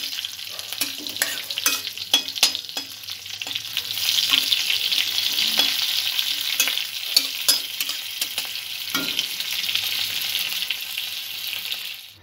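A tempering for suji (semolina) dhokla fries in a pan, a steady close sizzle with repeated scraping stirs and light utensil clicks throughout, no talking.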